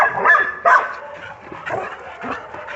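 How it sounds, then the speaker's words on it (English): Dogs in a kennel bark and yelp in quick, close bursts, with a few whimpers between the louder barks; a person speaks briefly under the noise. "She's annoying with that barking."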